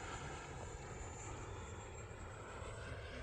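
An E-flite F-16 Falcon model jet with an 80mm ducted fan flies overhead, a steady rushing whine that holds even and moderately distant throughout, with no voices.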